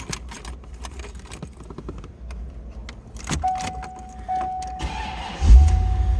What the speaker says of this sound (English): Let's go ahead and fire this up.